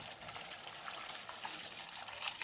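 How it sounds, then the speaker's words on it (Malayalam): A faint, steady trickle of water pours into a fish curry pan for a couple of seconds, soft and continuous with no voices. "ഇച്ചിരി വെള്ളം മതിയേ നമുക്ക് ഈ വെള്ളം ഒഴിച്ചു കൊടുക്കാം"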